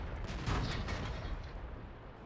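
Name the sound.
KV-220 tank cannon shot in a video game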